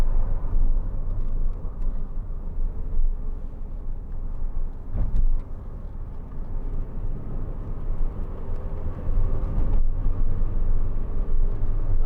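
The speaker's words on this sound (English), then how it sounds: "A little bit of wind noise. The fan's making probably the most noise, I think." Inside a 2004 MG TF 1.6 two-door on the move: a steady low engine and road drone with light wind noise and a ventilation fan whirring, a couple of soft knocks, no one talking.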